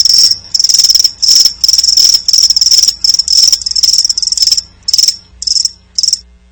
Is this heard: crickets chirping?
yes